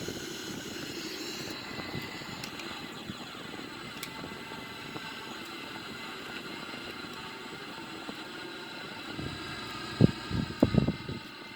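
A Sukhoi Su-30 jet engine gives a steady, droning roar heard from close by. The whine stays even throughout, with a few thumps near the end.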